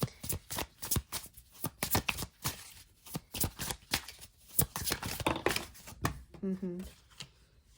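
Tarot cards being shuffled in quick, crisp riffling bursts, close and fairly loud, with someone talking over much of the shuffling.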